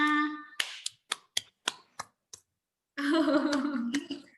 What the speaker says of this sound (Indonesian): Ricky ngasih tepuk tangan tuh.